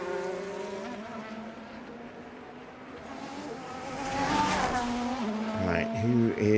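Race cars in the F1 Manager 24 racing game at the Netherlands circuit cross the finish line, engines whining and rising in pitch as they pass close by, with a commentator talking over them.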